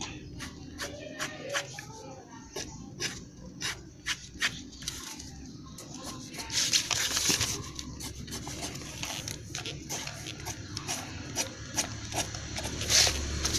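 Pencil scratching on paper as hair is drawn, a quick series of short, soft strokes, closely heard and faint, with denser scribbling partway through.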